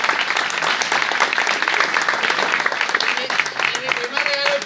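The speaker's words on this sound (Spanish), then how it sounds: "Un aplauso para ustedes, bien fuerte." At an end-of-course event with a comedy performance, an audience bursts into loud, dense applause that fills the whole moment, with voices and cheers mixed into the clapping.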